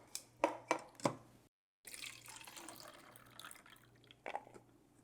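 Walnuts are rinsed under running tap water: a few sharp knocks and clatters come first, then after a short gap a soft, continuous splash and hiss of water flows, with another brief clatter near the end.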